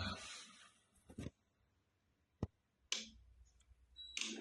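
A relay clicks as a single-phase inverter switches over to battery power, a sharp isolated click standing out between brief bursts of hiss and low hum in an otherwise quiet room.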